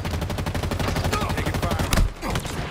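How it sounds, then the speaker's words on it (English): Halo Infinite gunfire comes as a dense rapid stream of evenly spaced shots, loud and close, with a short break and a sharper burst near the end. "Taking fire."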